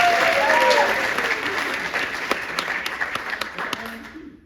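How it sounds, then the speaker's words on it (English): An audience at an improv comedy festival breaks into a round of applause that starts loud and thins out into scattered individual claps near the end, with a brief voice heard early. "Give a round of applause for Aaron"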